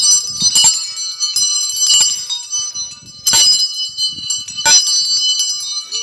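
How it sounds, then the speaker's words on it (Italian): Bells of a private bell tower ring inside a house, several loud clanging strikes at irregular intervals with ringing tones sustaining between them, close and dominant, faint voices in the background. "Suonare le campane?"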